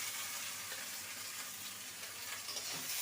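Potato and eggplant pieces fry in a pan with cauliflower stems just added, producing a faint, even sizzle that holds steady throughout with no speech.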